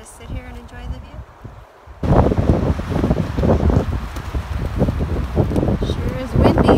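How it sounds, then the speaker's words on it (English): Strong wind buffets the microphone in gusty rumbles on a backcountry trip in Temagami, getting louder partway through, with a faint buzzing insect and rustling in the background. "Sure is windy out here today."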